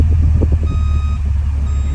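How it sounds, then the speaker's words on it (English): Beeping low-battery warning from a 12000 BTU under-dash electric air conditioner running on a 100-degree day, a steady repeating tone over a constant low hum from the unit. "You're hearing that beeping because it's trying to say that my battery"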